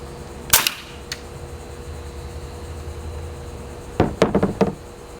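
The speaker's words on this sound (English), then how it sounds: "Now we'll try shooting a dart. Alright, this is 100 psi." A homemade airgun at 100 psi fires a dart with one sharp, loud crack. After a few seconds of quiet hiss comes a quick cluster of four or five nearby clacking knocks.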